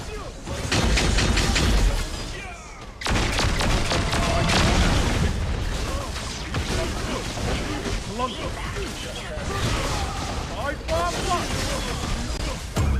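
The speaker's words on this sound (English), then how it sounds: "Your tower has been destroyed!" A tower destroyed during a ranked match of the mobile game Arena of Valor: dense, loud booms, blasts and rapid combat effects layered continuously, with a game voice speaking over the action.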